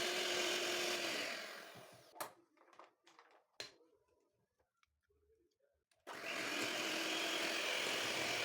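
An electric mixer whirs loudly while creaming eggs and wet ingredients in a bowl for red velvet cake, then cuts out for several quiet seconds of faint clicks and handling before roaring back on.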